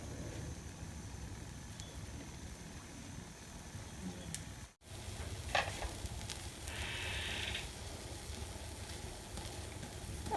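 A Spanish omelette sizzles and fries in a pan over a lit flame as its second side cooks. The steady, close hiss runs throughout, broken by a brief drop just before the midpoint.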